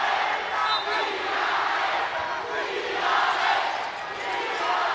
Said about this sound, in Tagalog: Crowd getting into it.